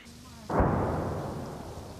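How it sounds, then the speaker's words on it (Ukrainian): Barrel artillery shelling the road people planned to leave by: a voice speaks briefly, then one heavy, close boom bursts out and rolls into a long, loud rumbling decay. "Це була стволка, ствольна артилерія працювала."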